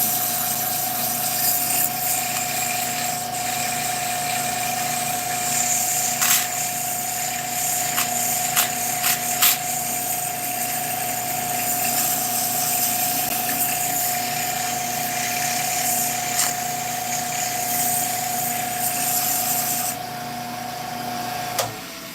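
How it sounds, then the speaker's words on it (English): A power sander works steadily on a wooden top, making a continuous loud whine with a strong steady tone and a few brief scraping peaks, running nearly nonstop before cutting off at the very end. "Alright, we do a little bit of sanding."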